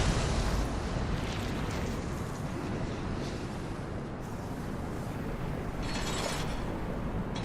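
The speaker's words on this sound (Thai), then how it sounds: "ระเบิดครับ" An explosion in the Darksiders video game produces a dense, roaring burst of noise that stays loud and sustained throughout, fading only slightly toward the end.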